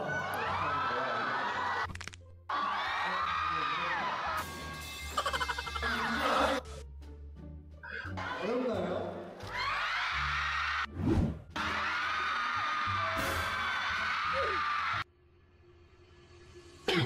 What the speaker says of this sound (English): those girls screaming